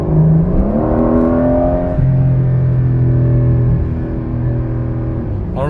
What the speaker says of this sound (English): it's all kinds of blow-off valve noises, motors.